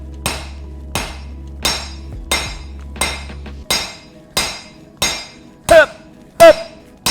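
A kukri blade is forged with an 8-pound hammer, heavy ringing blows landing about once every 0.7 seconds, close and loud, with a low hum under the first half.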